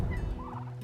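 A pastured turkey on a farm lets out one quick, warbling gobble, a short, fluttering burst that is fairly close and heard alone.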